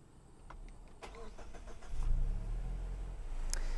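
A 2023 Mazda CX-50 compact SUV starts at night: a few faint clicks come first, then the engine catches about halfway through and settles into a steady, close, low idle rumble.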